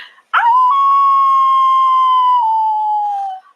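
A person imitates a werewolf howl: one long, loud, sustained wavering tone that rises sharply at the start, holds steady, then slowly falls and cuts off, alone and close.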